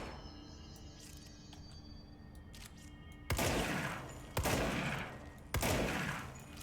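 Three loud, separate gunshots in Control ring out a second or so apart, each with a booming crack and a fading tail, following a quieter stretch of low ambient hum and small clicks.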